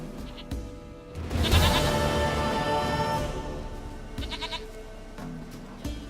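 A goat in The Witcher 3 gives one long, loud, wavering bleat, with shorter quieter bleats before and after it, close by and heard alone.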